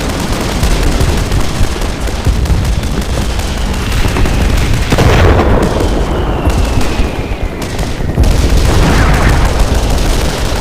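A Russian artillery cannon shell blasts into a building during a video game battle, heavy booming impact amid continuous loud gunfire and crackling explosions, a sustained dense roar of combat.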